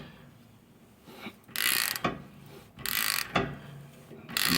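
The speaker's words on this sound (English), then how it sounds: "just go ahead and get your ratchet on there, just tighten it up." A ratchet tightens a wheel stud installer tool in a few short bursts of rapid clicking, separated by brief pauses, close and fairly quiet.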